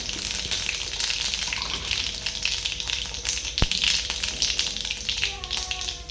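Cumin seeds crackle and sizzle in very hot oil in a kadai, a steady close frying hiss throughout with one sharp tap of a utensil partway through.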